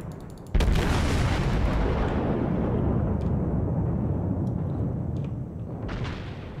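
Warship guns in World of Warships fire and strike a target with one sudden heavy boom, followed by a long, loud, rumbling roar that slowly fades, with a few faint clicks on top.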